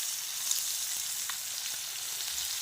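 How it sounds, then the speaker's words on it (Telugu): Katla fish frying in a pan gives a soft, continuous hiss of sizzling oil, with faint crackles and small pops scattered over the steady sound and no voices. "నిపుణుల పర్యవేక్షణలో జరుగుతుంది చేప ఫ్రై"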